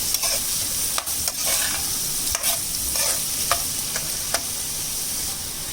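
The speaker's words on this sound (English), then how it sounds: "we will add our chopped onions. Saute nicely. Saute till it is translucent" Chopped onions sauté in a pan for Kerala chicken cutlets, a steady moderate sizzle punctuated by repeated spatula scrapes and taps against the pan, with no voices.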